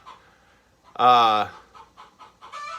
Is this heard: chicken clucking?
yes